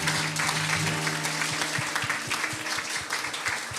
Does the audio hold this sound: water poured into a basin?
no